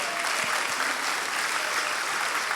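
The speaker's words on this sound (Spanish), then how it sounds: "Alguien puede aplaudir a Cristo, aleluya." A church congregation applauds for Christ in one continuous, even wash of clapping hands that fills the room, with a few low thumps beneath and no clear speech on top.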